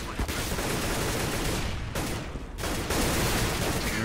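Dense, sustained gunfire exchange in Counter-Strike on the Nuke map during a professional tournament match, loud and continuous with brief dips, and only faint commentary beneath.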